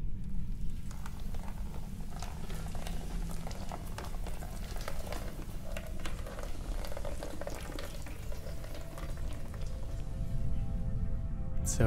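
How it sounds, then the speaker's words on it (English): Steady rain in the video game Cloud Climber, a dense, even patter of drops hissing continuously at moderate volume for the whole stretch, with no voices. "So it started to rain right at the end."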